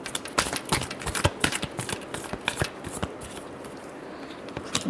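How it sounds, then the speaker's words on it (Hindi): A deck of tarot cards being shuffled by hand, quick crisp riffling flutters and sharp card snaps in irregular bursts, close and moderately quiet, with no talk. "Last shuffle."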